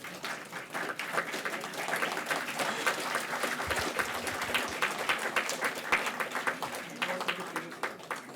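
Audience applause at an HR conclave's inaugural conference session, a steady crowd of clapping hands filling the room at moderate level for the whole stretch, without letting up.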